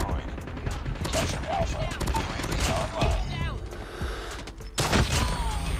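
Rapid gunfire bursts and impacts from the mobile shooter Call of Duty Mobile, crackling volleys with mechanical clicks and thuds, as a player talks over the action.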